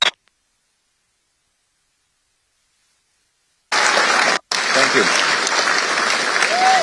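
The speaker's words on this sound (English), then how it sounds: "Give this man a big round of applause." Loud crowd applause at a political campaign rally, starting abruptly after a few seconds of silence and continuing steadily, broken by a brief gap.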